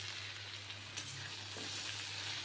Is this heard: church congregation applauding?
no